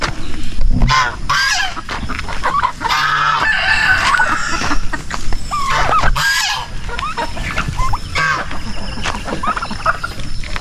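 Loose turkeys on a small farm alongside other poultry give repeated loud gobbling and honking calls, mixed with squawks and clucks, fairly near and continuous, with faint voices in the background.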